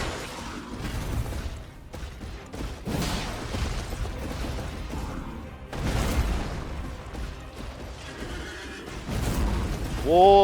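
A horse in the video game Elden Ring neighs amid busy in-game action and effects, ending in a loud, close, drawn-out whinny.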